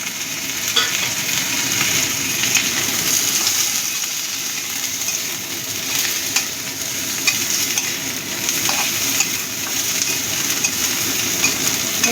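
Onions and parsley stems fry in butter and garlic with a dense, steady sizzle, broken by frequent stirring scrapes and light clinks against the pan, close and constant, with no speech.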